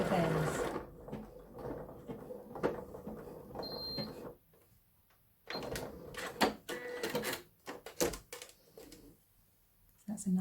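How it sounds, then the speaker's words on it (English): Sewing machine stitching a curved-end buttonhole in a backward pass, with short bursts of rapid mechanical chatter broken by a quiet pause midway. "This one's stitching backwards and curving on both ends."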